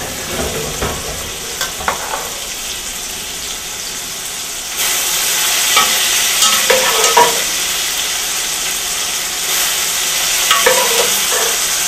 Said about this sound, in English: Now I'm going to take the pasta and put it in the pan and toss it with our sauce.